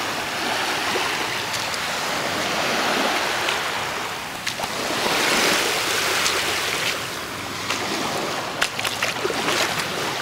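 Surf rolling onto the private beach at Indigo Pearl in Phuket, a steady wash of breaking waves with swells rising and falling, close and fairly loud throughout with no voices.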